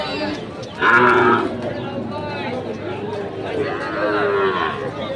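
A four-month-old Sahiwal bull calf's loud moo rings out near the start at a cattle market, with people talking around it and a busy outdoor crowd murmuring throughout.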